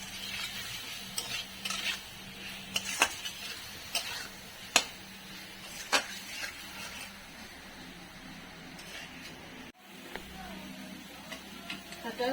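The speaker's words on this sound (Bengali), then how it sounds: "এইটাকে নিয়ে আমাকে একটু কষিয়েতে হবে" Masala with salt is stirred and sautéed in a pan, giving a soft steady sizzle punctuated by repeated sharp clicks and scrapes of a spatula against the metal, close up, with brief quiet gaps and no clear talking.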